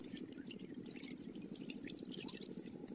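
Irrigation water runs steadily from a pipe into a farm field, a continuous close gushing and splashing flow at moderate level with no speech.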